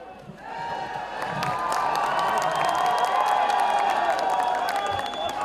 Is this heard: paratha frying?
no